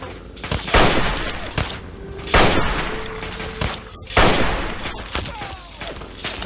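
Gunfire in the video game Fallout 3: three loud, close volleys of shots crack out at roughly even intervals, with quieter shots and rumble between them.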